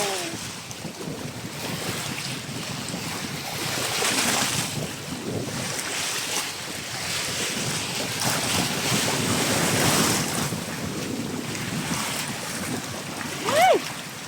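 Strong sea waves surge and crash at the shore in a steady, windy roar with rising swells and buffeting wind noise on the microphone, while people talk faintly in the background.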